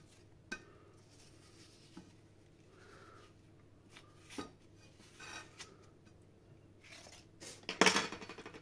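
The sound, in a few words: hollowing out a courgette by scraping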